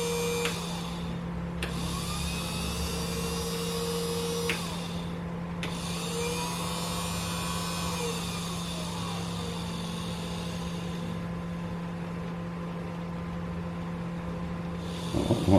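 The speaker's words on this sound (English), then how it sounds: "The motor's running. It won't run for long, and then it'll stop," The motor of a homemade compound slide power feed runs with a steady electric hum and a whine. There are brief interruptions along the way and a few clunks at the end.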